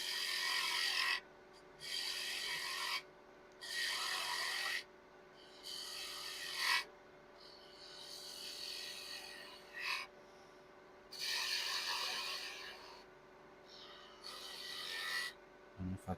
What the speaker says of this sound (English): just get the tip of my gouge just in there. Do a little relief cut